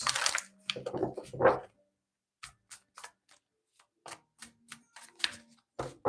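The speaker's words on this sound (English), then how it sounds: "Make sure I shuffle the deck really good. Get it all nice and shuffled." A deck of tarot cards is shuffled by hand up close, with a dense riffle at the start, then sparse crisp snaps and clicks spaced apart in a quiet room.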